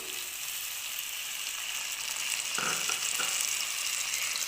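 A cup of water hits a pan of frying tomatoes, turning the steady hiss of oil into a louder burst of sizzling and bubbling partway through, close and continuous with no talk.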